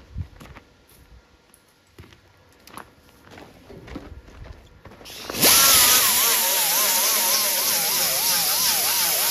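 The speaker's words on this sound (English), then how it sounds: "let's grab the grinder. We'll grind this down and see what kind of mess we got going on to the bottom of this fender." Angle grinder biting into the rusty lower edge of a 1964 Chevy Impala fender, starting abruptly after several seconds of quiet shop shuffling and footsteps, then a loud, steady, wavering metal grind that holds to the end.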